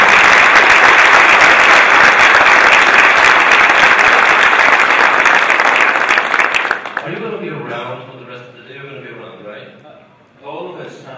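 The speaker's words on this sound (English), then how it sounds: "Let's give them a big round of applause." A conference audience on a main stage breaks into loud, sustained applause after a talk, dense clapping filling the room for several seconds before fading out as a speaker's voice returns.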